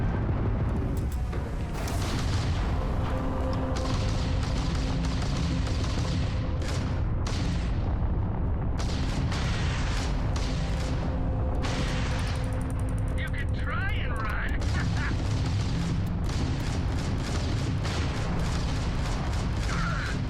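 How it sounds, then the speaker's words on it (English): Spaceship battle in Starfield with a dense, continuous barrage of booms and crackling blasts under steady game noise, explosions overlapping throughout as ships break apart. "I love the explosions, the way the ships all break apart."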